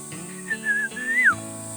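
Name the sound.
human whistling imitating bird calls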